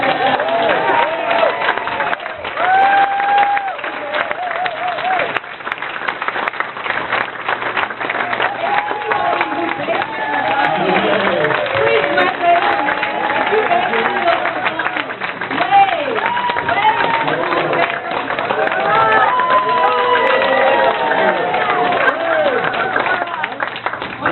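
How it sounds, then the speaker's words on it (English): Dinner guests at a peace and ecology center members' dinner applaud the kitchen staff, a sustained roomful of clapping under scattered voices and cheers, holding steady for a long stretch. "wouldn't you like to give a round of applause to the kitchen people and all the people?"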